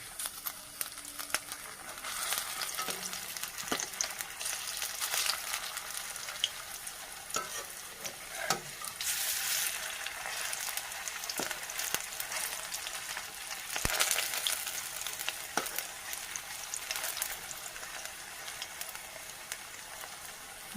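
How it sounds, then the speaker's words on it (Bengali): Cauliflower pakoras deep-fry in oil as they are turned. There is a constant bubbling sizzle, broken by occasional scrapes and light taps of a utensil. "ভালো করে লাল লাল করে ভেজে নেব।"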